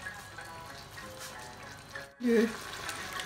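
Escalope simmering in sauce in a pan: a soft, steady sizzle and bubbling, close by, that grows louder toward the end as more liquid goes in.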